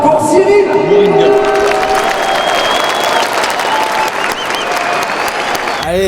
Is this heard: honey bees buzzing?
no